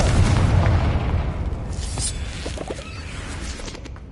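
A Confringo spell explodes in the video game Hogwarts Legacy, a loud booming blast right at the start that rolls off into a long rumbling decay, with a few small crackles trailing behind.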